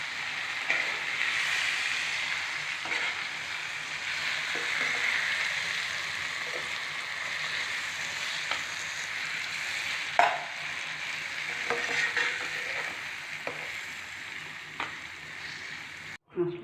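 Spices with salt and vinegar-soaked ginger and raw turmeric frying in a pan for an Assamese mango pickle, a steady, moderate sizzle with occasional spoon scrapes and taps, ending in a sudden clatter.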